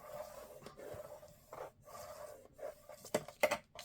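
A paper album hinge is burnished with a tool in quiet, short rasping rubs, a series of scraping strokes growing slightly louder toward the end, with no talking.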